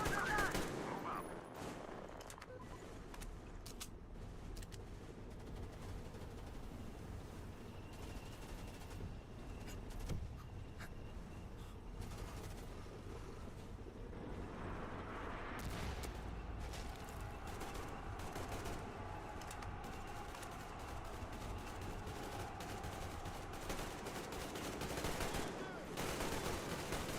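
Sustained automatic gunfire rattles in the video game Metro Exodus as covering fire, dense bursts continuing throughout with faint voices and game effects underneath.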